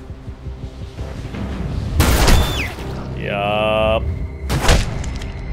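Gunshots crack twice in Detroit Become Human, loud and close, with a whooshing in-game effect between them and a brief spoken reply.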